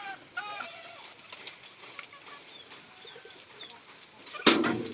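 A newly bought pigeon flutters and flaps its wings in a few soft bursts, close by, ending in a sharper flurry of wingbeats near the end.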